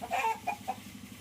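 A white hen gives a few short clucks, close by and moderately quiet, over a faint low hum.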